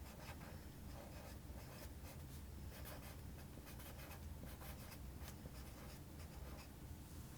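Continuous scratchy scribbling of pencils on paper in a classroom, close and faint, with rapid uneven strokes running throughout and no talking.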